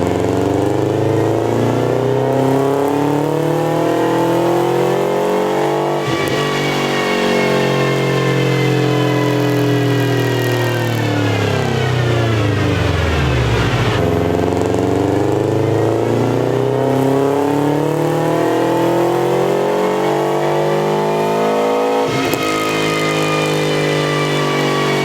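A JDM-swapped Subaru engine on a dyno in third-gear pulls, loud and close, revving up steadily in long sweeping climbs, dropping off abruptly, then winding up again through repeated high-rpm runs.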